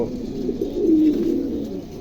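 A pom pigeon gives a soft, low cooing call up close, one continuous throaty burble lasting a couple of seconds with no talk.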